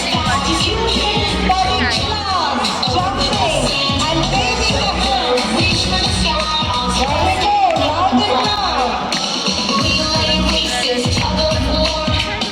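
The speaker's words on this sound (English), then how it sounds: "Everyone's cheering here for kicking balls, aiming high on sports day." Crowd noise fills a children's sports day outdoors, a loud, steady babble of many voices with scattered shouts and cheers throughout.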